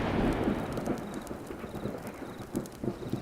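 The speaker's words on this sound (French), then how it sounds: "L'orage gronde une seconde fois" Thunder rolls in a stormy night, a deep rumbling with steady rain noise and faint irregular thumps, moderately loud and continuous.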